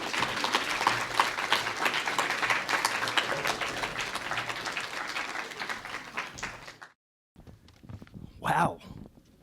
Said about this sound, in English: Let's clap for our hands.